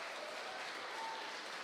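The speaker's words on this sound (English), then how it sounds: "Shall we all give a big round of applause?" Audience applause for a judge at a school cultural day, a faint, steady wash of distant clapping from a crowd, continuous and even throughout.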